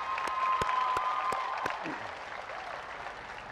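A crowd applauds at a youth world parade of teams, dense clapping that starts loud with a few sharp hand claps standing out, then fades lower, with faint voices underneath.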